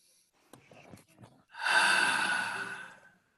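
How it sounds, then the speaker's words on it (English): A single deep inhalation and slow exhale, taken during guided relaxation within a spiritual meditation session; preceded by soft breathy sounds, then a long, fairly loud breath that fades out, with no talking. "Big deep breath."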